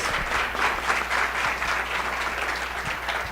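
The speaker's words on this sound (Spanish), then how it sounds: "Un aplauso, por favor." Audience applause at an academic panel marking a fiftieth anniversary, steady dense clapping filling the room throughout without a break.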